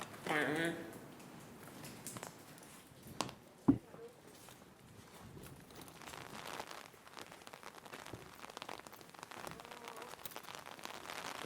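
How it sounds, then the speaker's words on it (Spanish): Heavy rain in Shkoder, Albania, patters and hisses on surfaces throughout, with a few louder knocks and thuds, and voices speaking now and then over the downpour. "está lloviendo mucho"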